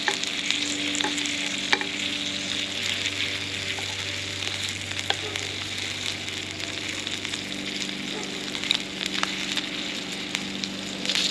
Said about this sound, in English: you gotta keep turning the sausage to get a nice even caramelized color